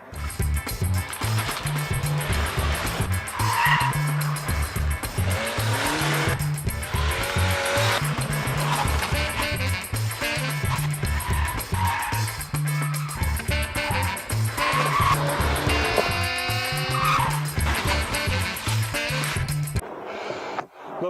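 A Seat Leon Cupra 280 with a 2.0 TSI engine is driven hard through track corners, its engine note rising and falling continuously, with brief tire squeal and little talk.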